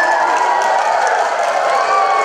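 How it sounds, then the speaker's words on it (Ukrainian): Young schoolchildren in a cinema before a cartoon screening shout and cheer in a dense, loud, continuous din, with clapping blended into the crowd noise. "В очікуванні нових яскравих емоцій перед переглядом мультфільму малеча радісно кричала і плескала в долоні"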